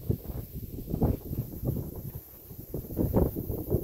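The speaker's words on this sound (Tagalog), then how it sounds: "Ang lakas ng hangin mga master." Strong wind buffets the microphone in low, rumbling gusts that rise and fall continuously by a kangkong-covered fishing spot, with no one speaking.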